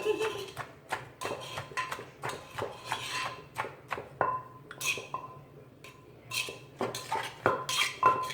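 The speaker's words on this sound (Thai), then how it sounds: "เสียงช้อนกับโคกนี่มันบาดใจเหลือเกิน" A spoon repeatedly clacks and grinds against a mortar while pounding beans and Thai eggplant for a spicy salad, in an irregular rhythm, close and sharp, with faint background sounds.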